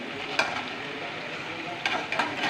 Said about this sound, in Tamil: இப்படி எண்ணெயில் போட்டு பொரிய வச்சு எடுத்து